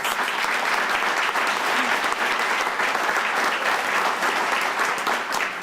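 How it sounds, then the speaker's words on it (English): Steady, dense applause from an indoor audience at a city neighborhood awards celebration, sustained and fairly loud for the whole stretch without letting up. "That in itself deserves an applause."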